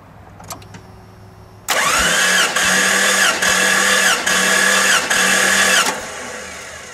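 A 1989 Jeep Cherokee engine cranks on the starter with its ignition disabled during a dry compression test, giving a loud rhythmic churning of about five even pulses for roughly four seconds before stopping, preceded by a few faint clicks.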